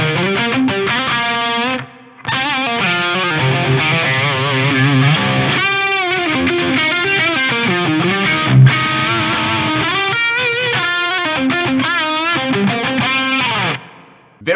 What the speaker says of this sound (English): I'm going to kick in the London Plate reverb